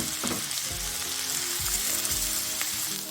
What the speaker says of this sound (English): what we need to do now is add the onions to the oil and the butter, and we've got to get them just lightly browned